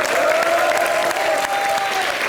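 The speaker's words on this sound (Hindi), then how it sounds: "खैर हमारे सुशील कुमार जी के लिए जोरदार तालियां" Studio audience at a comedy show bursting into loud, dense applause, a steady wash of clapping that holds for a couple of seconds.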